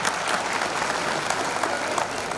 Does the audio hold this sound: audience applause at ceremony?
yes